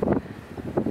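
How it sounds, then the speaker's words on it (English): Wind on a rainy beach near Margaret River in Australia, a low buffeting rumble against the microphone that swells in two short gusts within a single second, with no one speaking. "It's windy."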